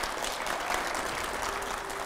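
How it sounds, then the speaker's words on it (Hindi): A studio audience at a televised Hindi political talk show gives a burst of loud, dense clapping that carries on steadily from start to finish. "जोरदार तालियां हो जाए प्लीज एक बार।"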